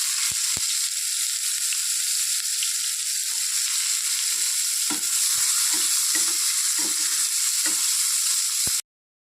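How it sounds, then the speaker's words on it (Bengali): Chopped onion and white cumin fry in hot mustard oil with a bright, steady sizzle. Partway through, a series of closer stirring scrapes and clinks comes in, and the clip cuts off abruptly at the end. "আমি সর্ষের তেল দিয়েছি তার তেলটা গরম হয়ে গেছে দিয়ে দিয়েছি সাদা জিরে দিয়ে দিব কুচনো পেঁয়াজ"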